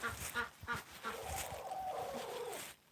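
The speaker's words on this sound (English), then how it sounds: "Chickens. The chickens are making noise." Poultry calling repeatedly out on a wet, dark farm at night, a run of short honking, quacking cries close by with a steady drone beneath.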